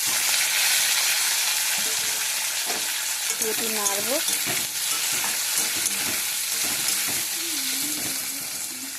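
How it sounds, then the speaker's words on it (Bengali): Onion, green chilli and tomato frying in oil make a steady, close sizzle, with occasional stirring scrapes and a brief spoken remark partway through. "এটা একটু ভাজা ভাজা হোক।"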